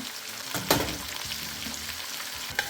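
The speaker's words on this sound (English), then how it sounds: "So stir the vegetables around for a few minutes" Onions, garlic, celery, parsnips and carrots fry in a pot for a beef and sweet potato stew, a steady close sizzle broken by a couple of sharp scraping stirs.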